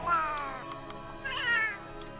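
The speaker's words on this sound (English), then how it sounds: "That's a very angry kitty." A disgruntled cat meowing as a character voice in the video game Monster Hunter World, two drawn-out, high-pitched meows rising and falling, close and clear, with no talk over them.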